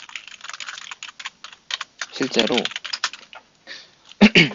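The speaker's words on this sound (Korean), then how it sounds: "적으면서 타이핑하면서 얘기해 볼게요" Fingers type on a computer keyboard in quick, uneven bursts of clicks. A person talks over the typing, and a loud keystroke cluster comes near the end.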